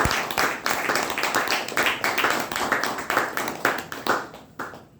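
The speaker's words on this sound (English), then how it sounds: "Let us give them a big round of applause." A crowd applauds with dense, steady clapping that holds strong for several seconds before tapering off near the end.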